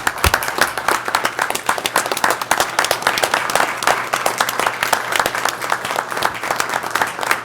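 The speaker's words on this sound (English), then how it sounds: "let's all give Casey a round of applause" A room full of people at a city commission meeting claps steadily for Casey, a dense run of individual hand claps lasting several seconds at moderate loudness with a low steady hum beneath.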